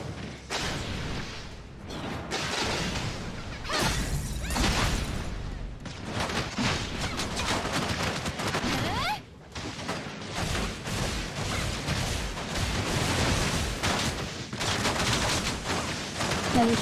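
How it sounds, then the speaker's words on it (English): Dense, continuous gunfire from the video game Tower of Fantasy, aimed downward, rattles as a loud barrage for the whole stretch with only a brief dip midway. "Shooting down."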